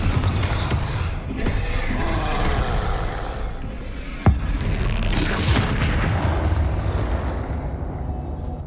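Confringo blasting spell from Hogwarts Legacy going off: a sudden sharp boom punches through a dense, continuous roar of game effects, then the rumble carries on steadily.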